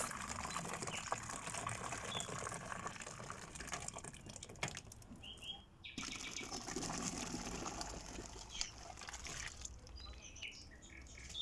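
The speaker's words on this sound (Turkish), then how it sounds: "Bu şekilde domatesleri çektikten sonra ocağımızı yakıp kazanların içerisine direkt döküyoruz" Pulped tomatoes are poured straight into cauldrons over a lit stove while making homemade tomato paste, giving a faint, continuous gushing and splashing wash with brief dips in the flow.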